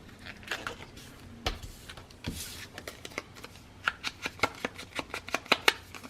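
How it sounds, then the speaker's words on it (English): Paper being folded in half by hand while making a journal: a run of sharp creasing crackles and taps, growing denser and crisper toward the end, close and fairly quiet with no talking. "Let me go ahead and fold this one in half."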